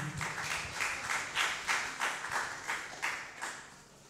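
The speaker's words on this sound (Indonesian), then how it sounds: "Mohon beri tepuk tangan yang meriah." Audience applause at a university research workshop, a crowd clapping steadily with rhythmic swells and no talk over it.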